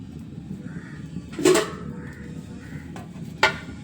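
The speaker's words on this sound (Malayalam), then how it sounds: "ഒരു പാത്രം അടുപ്പത്ത് വെച്ച് അതിൽ കുറച്ച് വെളിച്ചെണ്ണ ഒഴിച്ച് കൊടുക്കുക" Metal pot set down on a stove with a sharp clank, then a second clink a couple of seconds later, with faint low kitchen noise between; coconut oil pouring is not distinct.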